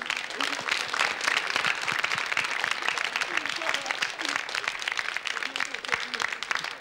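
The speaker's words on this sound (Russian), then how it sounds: "взрыв аплодисментов" A studio audience on a televised quiz game breaks into a steady burst of applause lasting several seconds, dense and even, with a few voices audible beneath the clapping.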